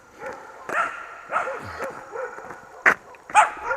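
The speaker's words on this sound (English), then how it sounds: "So I got 2 dogs up here." Two dogs bark at a hiker on a road, with sharp intermittent barks and yips at mid distance, a couple of louder close barks standing out near the end.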